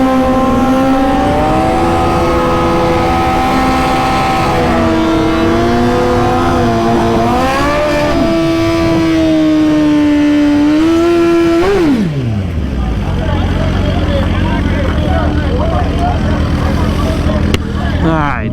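A 2020 GSXR 1000 motorcycle is revved for a practice launch, the engine held high and wavering, then dropping sharply to a low idle rumble, loud and close throughout.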